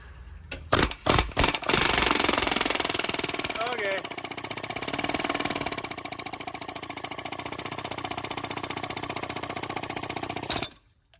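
Impact gun hammering on a reverse-threaded bolt on a Ford 3.0 engine, starting with a few short bursts, then a long continuous rattling run of about ten seconds, loud and close, and ending abruptly.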